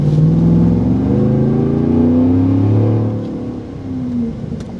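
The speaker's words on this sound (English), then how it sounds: "The 10-speed, it's just got a great burble to it, great sound. The Borla just shoots it out." A 2023 Chevrolet Silverado High Country with a 10-speed transmission and Borla exhaust revs loud and close, its deep burbling engine tone rising and falling through gear changes before easing to a lower rumble.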